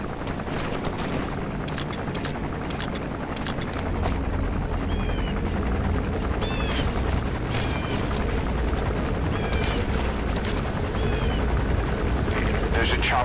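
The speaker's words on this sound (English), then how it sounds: "There's a chopper landing." Helicopter landing in Metal Gear Solid V, a steady rotor thrum and engine roar filling the scene, with game voices speaking intermittently over it.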